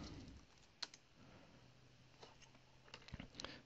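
Someone types a search query into Google on a computer keyboard: sparse, quiet keystroke clicks close by, with a sharper tap near the start and a quick cluster of keys at the end.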